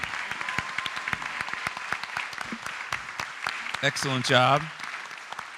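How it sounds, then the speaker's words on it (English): Audience applause for the teams at a university entrepreneurship competition, moderately distant clapping in a hall with distinct individual claps, while a voice speaks briefly near the end. "Can we give them a big round of applause?"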